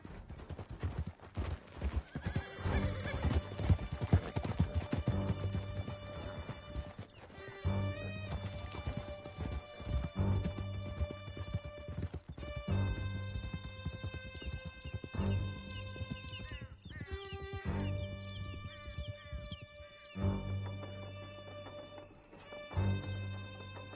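Horse hooves gallop in a steady clip-clop rhythm through Red Dead Redemption 2, close and prominent, with occasional neighs and impacts over a layered game soundtrack.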